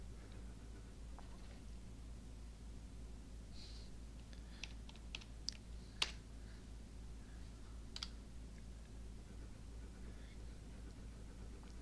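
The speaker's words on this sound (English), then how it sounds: "For my next test, I ask you to type the number of the beast." Keyboard typing during the video game Pony Island, a handful of sparse, separate clicks scattered over a steady low hum, faint and close, with no talking.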